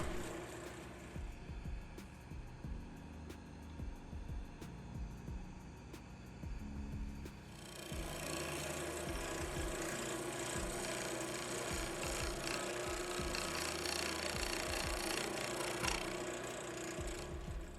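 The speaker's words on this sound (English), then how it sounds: "I'm hollowing this thing with a combination of a CI3 and a CI5." Hollowing a wood and resin hybrid bowl on a lathe with CI3 and CI5 hollowing tools, light scraping and ticking at first, then a sustained loud rough cutting hiss that grows and continues to the end.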